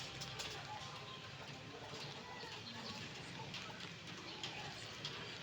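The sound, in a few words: rain falling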